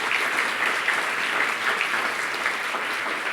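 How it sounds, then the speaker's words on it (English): A conference audience at a morning artificial intelligence business breakfast applauds the panel speakers, a steady, dense wash of many hands clapping at even loudness throughout, with no voices over it. "can we give our speakers a big round of applause as well?"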